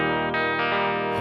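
An electric guitar plays a few ringing chords through a TC Electronic Dark Matter distortion pedal and amp, its volume knob turned down for a fairly clean tone with only light grit and shimmer.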